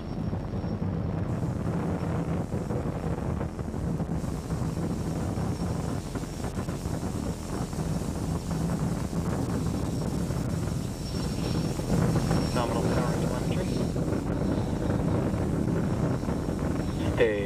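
SpaceX Falcon 9 rocket roaring about a minute into launch, heard as a steady, distant low rumble that runs throughout with no clear speech in the clip.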